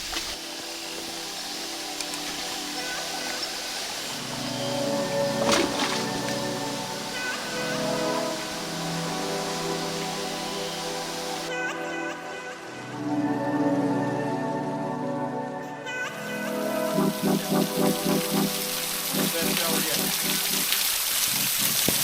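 Water pouring and splashing in a jungle waterfall, a steady broad rush with shifting tones, heard up close while people talk and move about in the water.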